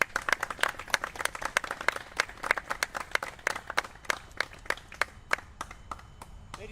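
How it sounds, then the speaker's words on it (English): Audience applause at a Purple Heart Citation of Honor ceremony in Virginia, honoring Mount Vernon: steady clapping from a moderate crowd that holds for several seconds and thins toward the end. "one more round of applause for Mount Vernon."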